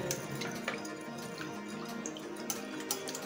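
Milk pours into a bowl for sweet bread toast, a soft continuous liquid trickle with light splashing and faint drips, close and quiet, with no talking.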